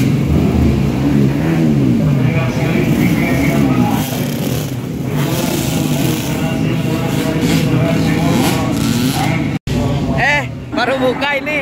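A Moto2 racing motorcycle engine revs repeatedly in a crowded race paddock, its rising and falling tones running steadily under near, continuous chatter from people close by.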